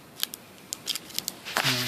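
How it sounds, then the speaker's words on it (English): Sharp scissors snip through leather in a string of quiet, crisp cuts, a few close clicks spaced irregularly before a louder final cut. "you want to cut the leather, it cuts right off and it's nice and clean"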